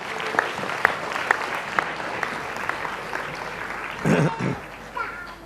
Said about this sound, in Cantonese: 我哋再一次以掌聲歡迎胡文希牧師。